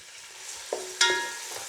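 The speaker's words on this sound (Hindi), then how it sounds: "तो चलिए मैं प्याज फ्राई करती हूँ।" Julienned onions fry in hot oil for beef nihari with a soft, steady sizzle. A couple of sharp metallic clinks from a utensil against the pan ring out over it.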